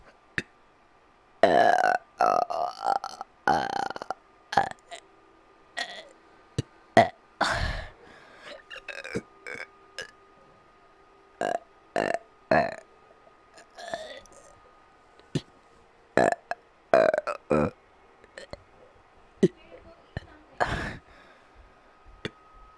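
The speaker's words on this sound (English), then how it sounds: "That was a big burp. It just kept on coming out. There's multiple burps actually." A person lets out a long series of loud, close burps, some drawn out and others short, scattered irregularly with quiet gaps, clicks and breaths between them.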